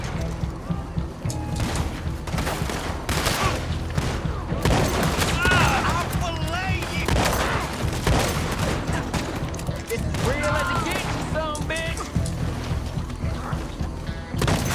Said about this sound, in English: I'm just going in and shooting.